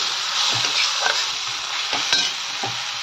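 Green chilli, ginger, garlic and coriander fry in a pan over medium gas, a close, continuous sizzle broken by several scraping stirs of a spoon.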